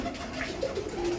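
A Shakdum Giribaj pigeon gives a short, soft coo, faint and close, with low murmuring in the background.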